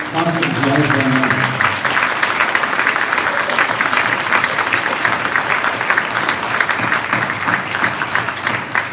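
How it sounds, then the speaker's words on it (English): Sustained applause from a concert audience saluting a senior concert jazz band at a spring school concert, dense steady clapping that fills the room from start to finish, with a brief musical tail fading at the very beginning. "a round of applause for all the senior concert jazz band members"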